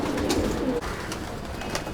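Pigeons in a loft coo softly and close, with a low burbling call in the first part followed by quieter rustling and a few brief flutters.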